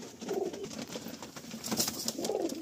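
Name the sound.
Madrasi pigeons cooing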